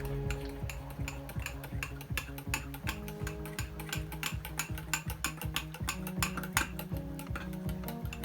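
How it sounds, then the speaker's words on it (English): A fork whisks coconut powder into boiling water in a cup, giving a quick, rhythmic run of close clicking and scraping strokes against the cup that stays steady and moderately quiet throughout. "Then I just get a fork like this, just mix it around like that."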